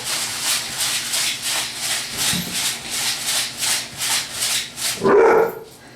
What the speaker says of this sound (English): Take our black pepper, grind that on the top as well.